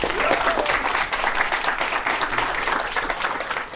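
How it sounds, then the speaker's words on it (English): Warm audience applause welcomes a guest at a science-backed beauty event, a dense, steady wash of many hands clapping that fills the whole stretch at full level with no break. "Johan Magnusson, a warm applause."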